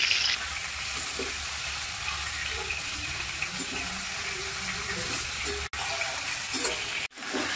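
Chicken pieces fry in a hot pan until lightly smoky, giving a steady, dense, loud sizzle that runs throughout, with two brief sudden dropouts near the end.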